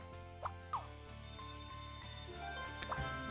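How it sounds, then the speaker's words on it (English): Ringing from an alarm clock created in Scribblenauts Unlimited, a steady electronic bell-like ring with a few short chirps and a low repeating game music pulse beneath, no voices. "Next up is we're going to need an alarm clock."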